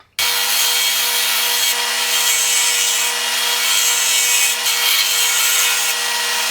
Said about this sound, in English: I'll just run that across real slowly, and it'll just scrape it off evenly with a nice flat surface